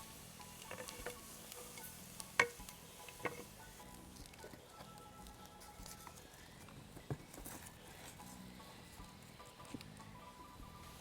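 Garlic frying in a pan until fragrant, a faint, low sizzle running steadily throughout, with a few sharp clicks and taps of a utensil against the pan.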